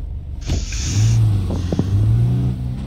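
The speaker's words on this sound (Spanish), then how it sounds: "me pones nervioso cada vez que escucho el acelerador" A car engine in the video game State of Decay 2 revs up and then holds a loud, close, rumbling drone, with a few brief knocks and rattles partway through.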